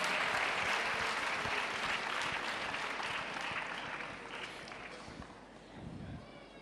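An audience at a World AIDS Day ceremony claps for Nyamagabe Health Center, a dense round of applause that gradually thins and softens, with a faint voice over a PA near the end.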